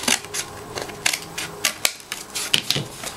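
Scissors snip through paper in a series of quick, crisp cuts, irregular short bursts close to the microphone with brief pauses between them.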